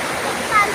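River water rushing steadily during a crossing, a loud continuous broadband wash without breaks.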